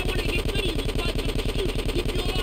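Rapid automatic gunfire at a car in Grand Theft Auto: San Andreas, a steady stream of evenly spaced shots rattling continuously at close range over a low engine drone.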